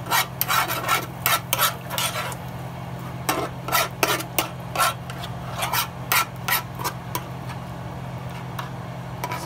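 A utensil scrapes and stirs minced garlic with butter in a pan, giving irregular bursts of rasping scrapes at close range over a low steady hum, with no one talking.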